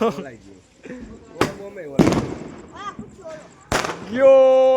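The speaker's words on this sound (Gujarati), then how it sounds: "અહીંયા મિર્ચી બોમ્બ ફૂટે છે" Mirchi bomb firecrackers burst during Diwali celebrations, with several sharp, loud cracks spaced across the scene amid excited voices, shouts and a rising whistle-like tone near the end.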